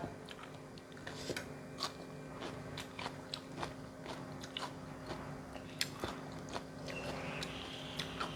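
Someone eats fermented soybean chili dip with fresh raw vegetables, making close, steady crunching bites and chewing sounds with a soft low room hum underneath.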